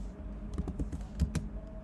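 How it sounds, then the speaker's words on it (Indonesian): Several quick keystrokes clatter close by on a computer keyboard as a command is typed into a command prompt, a short burst of sharp taps with no talk over them. "lalu kita ketik ARP -min."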